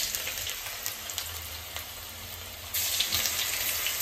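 Bitter gourd masala paste, mixed with gram flour and chili powder, sizzles steadily in hot oil, a dense close hiss that grows louder near the end.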